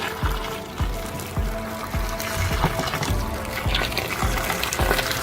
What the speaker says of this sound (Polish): Teraz je sobie sparzę gorącą wodą.